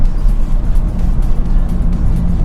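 A Škoda Octavia RS 230 engine drones steadily from inside the car while driving, a loud, continuous low rumble with road noise and no voices over it.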